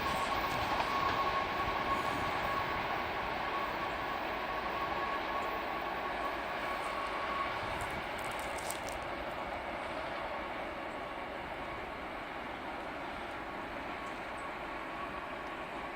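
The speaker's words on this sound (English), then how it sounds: "now as the train approaches the signal lights right here" A train approaching signal lights rumbles and rolls along the tracks, a steady mechanical drone that fades slightly over time, with no voices.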